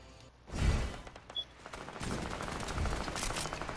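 Gunfire rattles in Fortnite: a loud burst near the start, then sustained rapid automatic fire that builds toward the end, with a player's voice heard briefly.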